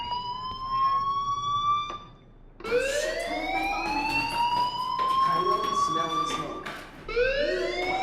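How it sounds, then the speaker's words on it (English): Fire alarm in the video game Life Is Strange, sounding as repeated rising electronic wails, one cut short then several sweeping tones in a row, loud and near. "Hey, do you hear that fire alarm?"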